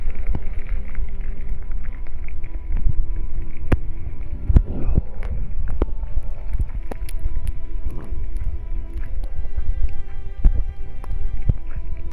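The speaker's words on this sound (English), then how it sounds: "this wind is so cold" Cold, wet storm wind from Storm Arwen in heavy snow, a steady low rumbling buffet against the microphone with a few sharper gusts and thumps throughout.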